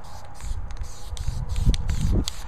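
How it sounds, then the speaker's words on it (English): Gold spray paint hisses in short close bursts onto a vintage mirror frame, with soft handling noises mixed in. "I spray painted a bunch of gold everywhere"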